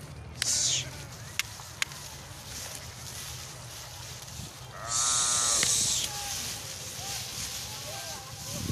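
Rahmani sheep ewes in a flock bleat loudly and near, in a couple of bursts over background voices and shuffling movement.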